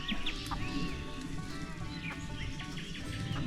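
Chickens on a village farm cluck softly among the grass, several short calls scattered over steady low background noise, moderately near.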